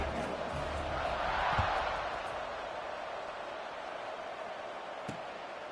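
Large football stadium crowd before kickoff at a league game, a steady broad roar of many voices that swells slightly then holds, distant and continuous, with no clear talk on top.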